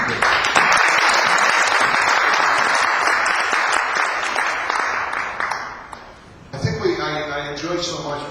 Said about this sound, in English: I think you should give Victor a round of applause